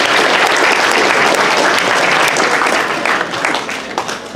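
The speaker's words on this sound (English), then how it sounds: "round of applause" A crowd at a costume contest claps loudly and continuously, the applause holding steady before thinning slightly toward the end.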